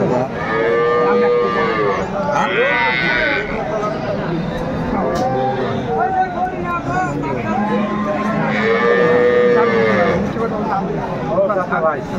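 At a busy cattle market, a cow kept with her calf lets out repeated loud, drawn-out moos, several calls over a few seconds amid crowd murmur and people talking nearby.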